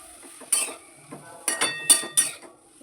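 A spoon stirs finely chopped tomatoes with salt and turmeric in a frying pan, making a few sharp metallic clinks and scrapes spaced irregularly over a quiet background.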